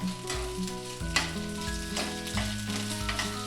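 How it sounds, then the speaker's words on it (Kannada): Coriander seeds and urad dal are dry-roasted in a pan for a coastal Karnataka spinach chutney, with a continuous low sizzle and repeated scraping stirs at a steady rhythm, close and uninterrupted by talk. "ಅದರ ಮೇಲೆ ಸ್ವಲ್ಪ ಕೊತ್ತಂಬರಿ, ಬೇಸಪ್ಪು, ಇದೆಲ್ಲ ಚೆಂದ ಮಾಡಿ ಹುರಿಬೇಕು, ಕೆಂಪಾಗಬೇಕು."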